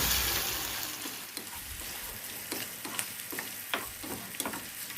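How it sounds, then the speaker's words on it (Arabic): Veal lung fries in a pan with oil and two pieces of butter, a constant close sizzle punctuated by a run of sharp spatters and stirring taps, with no talking. "هنزل بقى كده بالفشة تاخد تحميرة حلوة كده الاول"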